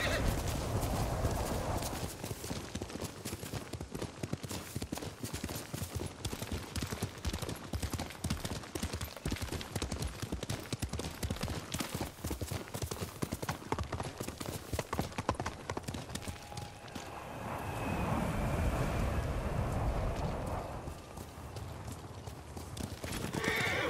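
Horse hooves clip-clopping steadily with whinnies and neighs from a mount in the video game Ghost of Tsushima, loud and close throughout, with a brief burst of busier clatter near the end.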